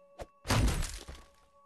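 Jason bashes a wooden door in Friday the 13th, with a small knock and then a loud, crunching splinter of a hit that decays into scattered debris over a quiet steady hum.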